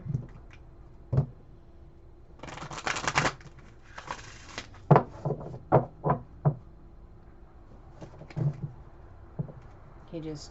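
Tarot cards are pre-shuffled by hand in a quiet room, making brief riffling bursts followed by a series of crisp taps and flicks spaced unevenly, fairly close.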